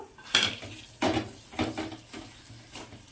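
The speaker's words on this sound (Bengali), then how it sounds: "এবার আমি এর ভেতরে সমস্ত আমলকিগুলো দিয়ে দেবো এই যে আস্তে আস্তে সব আমলকিগুলো দিয়ে দিই" Indian gooseberries (amla) dropped into a pot of boiling jaggery for amla pickle, giving several clattering knocks against the metal pot, close and fairly quiet, with no talk.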